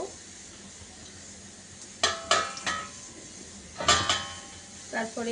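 Bay leaves dropped into a pan of melted sugar set off a few bright clatters and sizzling bursts, with quiet cooking noise between them; a voice speaks briefly.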